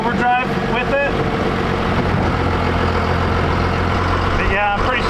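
A Cummins diesel in a Ford Dentside truck drives along in low gear, its deep steady drone filling the clip and loud throughout, with brief squeaky higher sounds near the start and end.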